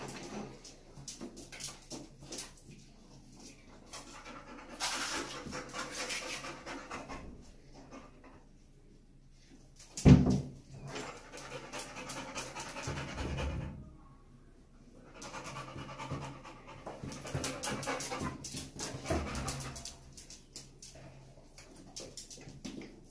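A dog pants and licks peanut butter from the back of a muzzle at a veterinary clinic, wet lapping and breathy panting in bursts with a sharp knock partway through.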